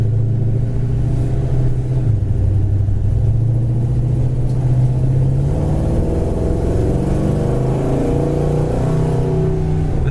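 Car on big wheels driving and revving, with a loud, steady engine rumble that rises in pitch as it accelerates through the clip; no talking.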